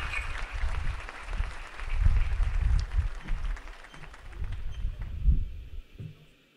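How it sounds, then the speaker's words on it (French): A crowd at a graduation ceremony applauds at length, a sustained wash of clapping with uneven swells and some heavier low thumps mixed in before it tapers off. "Sous vos applaudissements."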